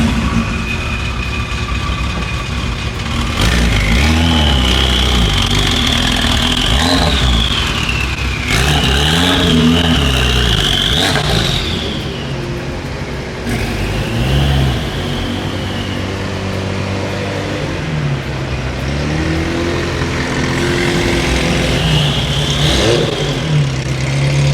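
A straight-piped Ferrari 348 revs loudly on a Miami street, its raw exhaust rising and falling in repeated sweeping pulls that stay close and continuous throughout.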